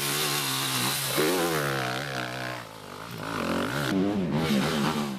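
Racing motorcycle engines at a championship race, a loud, continuous high-revving whine that rises and falls as the bikes shift and pass close by.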